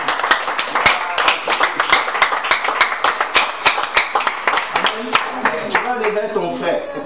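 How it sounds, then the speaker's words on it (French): A church congregation clapping in unison at a French-speaking service, a fast, steady rhythmic beat of many hands, loud and close, with voices and singing running underneath. "Est-ce qu'on peut donner l'acclamation?"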